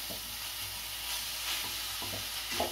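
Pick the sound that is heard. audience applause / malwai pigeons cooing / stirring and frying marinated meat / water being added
stirring and frying marinated meat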